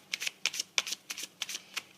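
Quiet, close riffling of tarot cards being shuffled, a quick run of soft papery flicks in short bursts with no voices over them.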